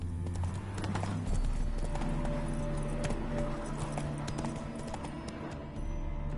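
Horse hooves clip-clop steadily in The Witcher 3 on PS4, close and continuous over ambient game sound and music, with a brief whinny-like tone.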